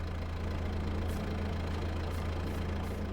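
Tractor engine idling in Farming Simulator 22, a steady low rumble with a faint knocking pulse running continuously and alone.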